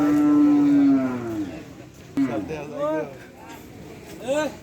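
A large cow lows at a busy cattle market, a long, loud moo followed by shorter calls, with people talking and bargaining close by.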